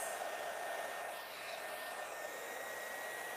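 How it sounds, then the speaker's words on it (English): Hair dryer blowing during a salon blowout, a steady, loud whooshing roar that holds constant throughout with no talking. "I'm going to use my dryer."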